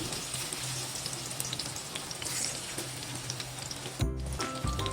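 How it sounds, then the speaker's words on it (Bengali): Pieces of taro sizzle steadily in hot oil in a frying pan, a continuous close crackling hiss with a brief clatter just past the four-second mark. "ফ্রাই প্যানে তেল দিয়ে কচুটাকে ভেজে নিচ্ছি।"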